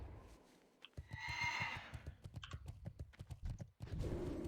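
A horse mount's hooves clip-clop in World of Warcraft Classic during a solo Zul'Farrak farming run, a steady near gallop with a brief whinny, alone without talk.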